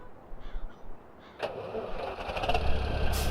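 Case tractor engine in Farming Simulator 17 cranks and catches at once, settling into a steady low rumble that builds louder, with a brief bright hiss near the end and faint background noise before it starts.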